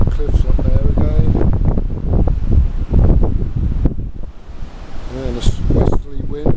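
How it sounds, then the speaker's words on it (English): Strong westerly wind buffets the microphone on Hemsby Beach while heavy sea swell rolls in beneath, a loud continuous roar throughout, with someone talking over it for much of the time. "this westerly wind, it's just the swell now that's keeping it rolling in"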